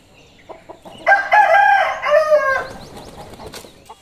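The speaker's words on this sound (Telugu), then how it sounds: "ఇంకా పొద్దున్నేనే ఈ కోళ్ళు వచ్చి నిద్ర లేపుతా ఉండేవి" A rooster crows loudly and close by in the early morning among farm chickens, one long drawn-out call preceded by a few short clucks, with softer fowl sounds trailing after.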